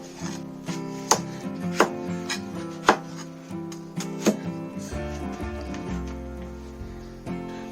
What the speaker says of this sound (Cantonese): 佢切開一大大片